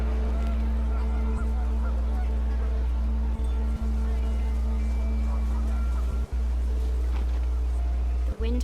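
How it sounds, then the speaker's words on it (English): Panicked geese honk in the What Remains of Edith Finch video game over a steady low wind-like drone, with faint scattered calls and a few sharp clicks. "The wind picked up, and panicked geese appeared and quickly went."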